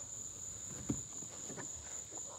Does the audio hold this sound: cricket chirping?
yes